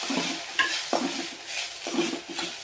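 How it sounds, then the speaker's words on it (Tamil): A handful of fresh coriander leaves is stirred and sautéed in a pan for a coriander seed chutney, with repeated scraping strokes over a soft, steady sizzle. "அதையும் உள்ளே போட்டு நல்லா வதக்கி விட்டுருவோம்"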